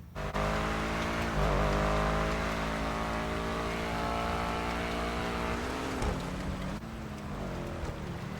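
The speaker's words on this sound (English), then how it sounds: "This is a Schlagen GT, very powerful, very slidey in the dry, and on the snow, I'm on ice" A Schlagen GT sports car in the video game GTA 5 drives on snow and ice, its engine holding a loud, steady drone that wavers slightly as it slides along, with no talking.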